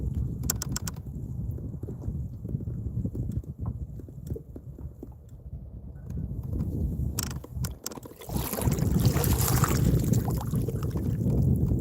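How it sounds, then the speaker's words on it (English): Wind blows across a lake around a bass-fishing boat, a rumbling, buffeting gust that swells louder toward the end, with faint knocks and water sounds near the boat. "the wind's starting to blow"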